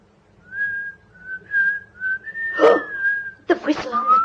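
A man whistles a short tune: a series of sustained, slightly wavering notes with brief gaps between them, clear and close, followed by a burst of noisy rustling and a voice near the end.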